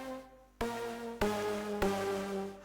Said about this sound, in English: This is a lead. I added a lead which sound like this.